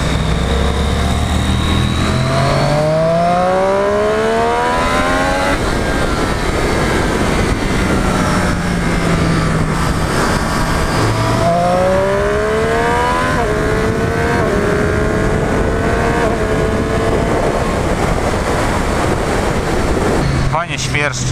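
A Triumph Street Triple 765 RS motorcycle engine revs loudly on a test ride, its pitch rising and falling in long sweeps over steady wind rush.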